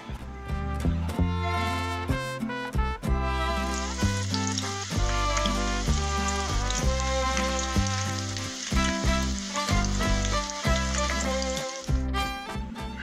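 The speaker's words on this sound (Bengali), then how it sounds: "এবার আমি মাছগুলোকে ভেজে নিচ্ছি।" Mustard oil sizzles and crackles steadily as tengra (Gangetic mystus) fish fries in a kadai, a continuous bubbling hiss with scattered pops and clinks.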